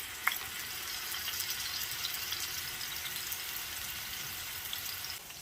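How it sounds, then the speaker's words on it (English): Seasoned salmon, flavoured with a little garlic, fries in a hot pan with a soft, continuous sizzle and crackle. It runs evenly at a fairly low level, with one small pop near the start. "So I'm going to put it in this nice hot pan and get started with that."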